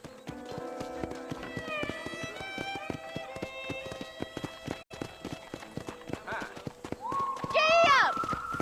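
Horse hooves clip-clop at a gallop in the Red Dead Redemption video game, a steady rapid rhythm of hoofbeats under game music, with a neigh near the end.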